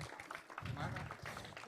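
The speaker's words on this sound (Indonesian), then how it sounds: "ini tepuk tangan dulu yang meriah buat Bapak Tony Dumalang" Audience at a river rescue seminar claps warmly for a presenter, a dense patter of applause with talk running over it throughout.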